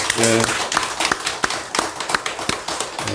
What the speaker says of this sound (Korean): 다 함께 우리 함께 자축의 박수 부탁합니다